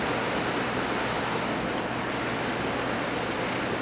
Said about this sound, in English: You can probably hear the river